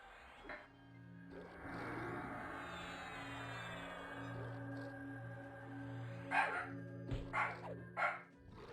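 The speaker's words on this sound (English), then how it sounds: "So that's the Molly defensive bark" A dog gives a series of sharp defensive barks near the end, about four loud bursts close together, following a long stretch of steady tonal background sound without speech.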